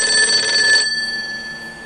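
A telephone rings in a home with a bright electronic trill for about the first second, then stops and the room goes quiet.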